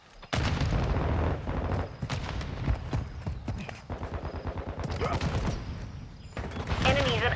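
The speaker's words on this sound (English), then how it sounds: "Grenade out! Taking contact at Alpha." Rapid gunfire bursts and explosive booms from a Call of Duty: Modern Warfare II multiplayer match, including a thrown grenade, fill the scene as a dense, loud, continuous barrage with shouted radio callouts layered over the combat.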